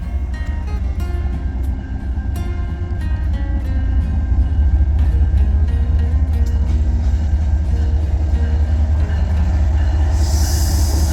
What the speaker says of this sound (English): Looks like we got some form of a GE. Looks like a grain train.